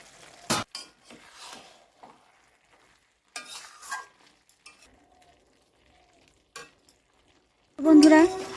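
A fish head muri ghonto is stirred in a pan with sparse, close scrapes and knocks of a utensil between quiet gaps, ending in a loud burst of sizzling.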